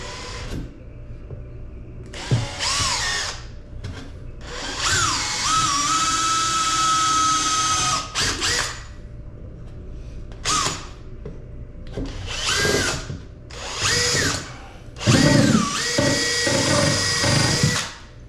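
Power drill boring an angled pilot hole into a wooden board for a small kitchen build, running in several loud whining bursts with pitch shifts as it bites, separated by brief pauses.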